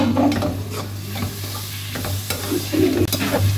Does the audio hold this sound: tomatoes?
yes